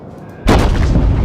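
A single heavy naval gun salvo from a battleship in World of Warships booms suddenly after near silence, a loud close blast followed by a sustained rumbling roll.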